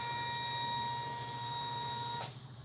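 An embroidery machine stitches a clutch purse held in its hoop, giving a steady, close mechanical whir with a high tonal hum that cuts off abruptly near the end.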